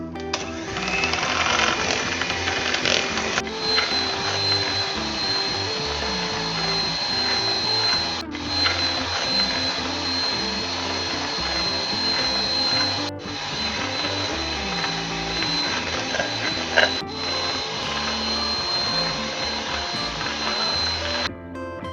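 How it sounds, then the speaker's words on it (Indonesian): Electric mixer whirring steadily as it beats Blue Band margarine with butter for a layered Surabaya sponge cake, a continuous loud motor drone with a few brief dips where the beaters pause. "kita akan mengocok blue band dan butter kurang lebih 15 menit"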